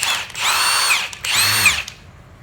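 A Milwaukee power drill whirs loud and close in two short bursts, each spinning up and winding down with a brief pause between them.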